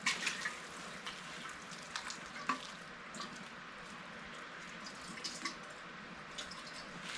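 Water pours and trickles steadily into carrot seed starting mix in a greenhouse, a soft continuous splashing with a few small drips, close and fairly quiet with no talking.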